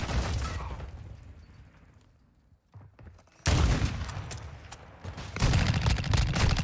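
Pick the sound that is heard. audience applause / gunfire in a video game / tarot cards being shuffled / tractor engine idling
gunfire in a video game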